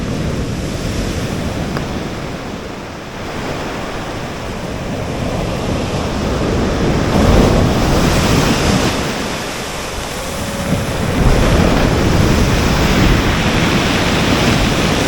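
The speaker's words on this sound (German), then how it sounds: "Mit schönem Meeresrauschen in der Ferne haben wir gut geschlafen." Sea surf rolls in on the Corsica coast, a loud, continuous wash of breaking waves that swells and recedes, mixed with gusty wind buffeting the microphone.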